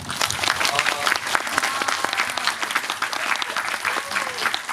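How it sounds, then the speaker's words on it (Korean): Audience applause at a film homecoming screening event, loud, dense and sustained clapping from a large crowd throughout, with no talk on top. "보고 계신 그 모든 분들을 향해서 같이 한번 박수 한번 칠까요?"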